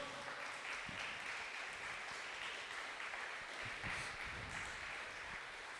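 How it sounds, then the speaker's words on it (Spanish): Steady applause from a church congregation during a service, continuous and even throughout, heard at a moderate distance with no voices over it. "Dale fuerte ese aplauso al Señor."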